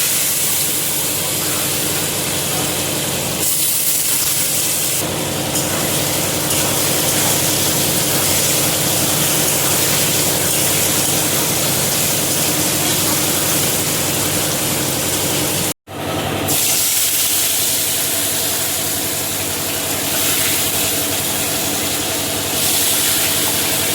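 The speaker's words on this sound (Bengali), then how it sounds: "সুন্দর সুন্দর তেলাপিয়া মাছের সাইজগুলো ভাজতে দিয়ে দিলাম" Pieces of tilapia fish frying in hot oil: a loud, steady, close sizzling hiss that runs almost unbroken throughout, with only a brief cut partway through.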